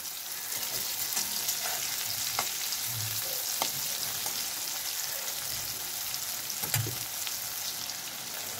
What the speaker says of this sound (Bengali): উচ্ছেটা একদম কড়া করে লাল লাল করেই কিন্তু ভেজে নেব আমি।